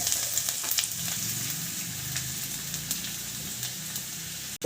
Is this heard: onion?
yes